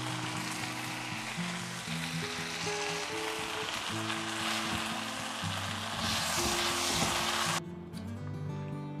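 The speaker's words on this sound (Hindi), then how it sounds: "अब बॉयल किए जो हमने नूडल्स हैं वो ऐड करूंगी और इनको अच्छे से मिक्स करूंगी लो फ्लेम पे 5 से 7 मिनट के लिए।" Boiled noodles sizzle steadily in a pan as they are stir-fried over a low flame for chicken chow mein, a continuous close frying hiss with occasional stirring scrapes.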